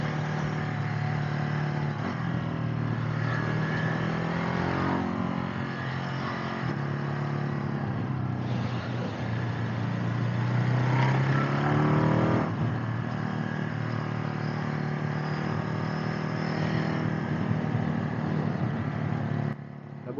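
Ducati Hypermotard 950 motorcycle ridden through tight corners with a quickshifter, its engine droning steadily and rising and falling as it accelerates, with brief gearshift breaks, heard close and continuous for about twenty seconds.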